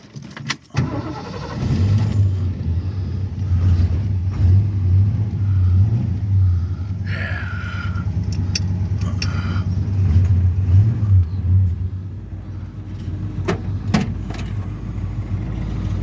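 A 1969 Ford Mustang Mach 1 cranks briefly, then settles into a steady, low, rumbling idle up close for most of the clip, with a few faint clicks and jangles near the end.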